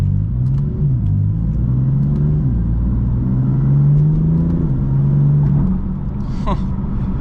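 A BMW F82 M4 Competition on a Chicago street, its engine droning steadily and then rising in a rev, loud and close for several seconds with faint background noise.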